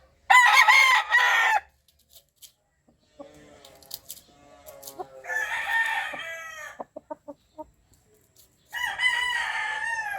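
A rooster crows loudly three times, separated by quieter clucking and soft rustling.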